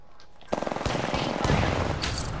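Rapid automatic gunfire in a battle royale video game firefight, a fast burst of shots ringing out loud and close, then a sustained dense crackle of fire continuing to the end.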